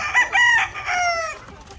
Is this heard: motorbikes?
no